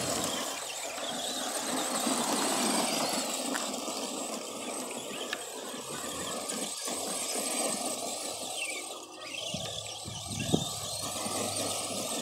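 ARRMA Granite 4x4 and Granite Voltage RC trucks driving and spinning out, their electric motors giving a steady high whine with tire scrub and gravel noise running continuously, a few sharp knocks near the end.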